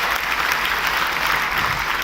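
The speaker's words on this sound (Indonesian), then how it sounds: "kalau mau tepuk tangan yang paling meriah saudaraku" Church congregation clapping enthusiastically during a sermon, a dense, even roar of many hands that stays loud and unbroken for the full two seconds.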